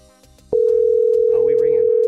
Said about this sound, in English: Oh, we ringing.